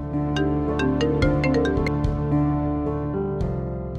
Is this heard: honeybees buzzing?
no